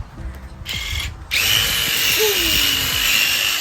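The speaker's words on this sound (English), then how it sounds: "So they are drilling the hole to stabilize it." A power drill starts up nearby and runs steadily with a high whine, following some brief rustling and a short earlier burst.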